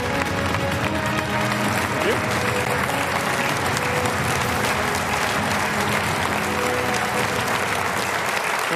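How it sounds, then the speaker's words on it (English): Steady applause from a political party launch audience greets the Tees Valley Mayor, a dense unbroken wash of clapping filling the room at constant loudness. "Ladies and gentlemen, please give your warmest welcome to Ben Houchem."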